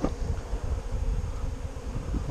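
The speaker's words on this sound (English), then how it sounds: "Bees marching and flying." A small honeybee swarm being captured into a hive in Texas buzzes steadily, a dense low drone close to the microphone with some wind noise.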